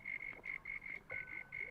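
Frogs croaking in a video game world at night by a town's fishing pier, a rapid repeating trill in short bursts with brief pauses, fairly faint and alone.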